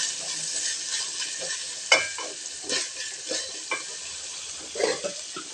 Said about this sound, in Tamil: எண்ணெயில் வதக்கிக்கலாம்